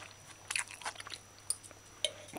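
Close, crisp chewing of crunchy stir-fried vegetables in oyster sauce, including carrot and cauliflower, with several sharp crunches in the first second and two more isolated bites near the end.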